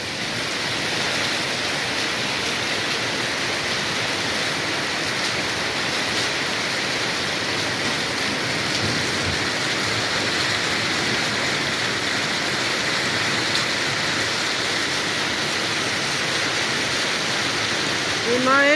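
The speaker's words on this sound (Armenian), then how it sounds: "Հիմա էլ շատ ուժեղ անձրև դարձավ" Very heavy rain pours down in Stepanavan, Armenia, making a dense, loud, unbroken roar that holds at the same level for the whole stretch with no clear voices.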